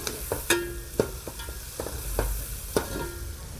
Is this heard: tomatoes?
yes